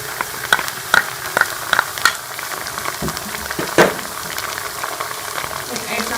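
Chilli sauce and ketchup hit a hot pan for manchurian and sizzle close up, with a row of sharp clinks and stirring knocks over a frying hiss.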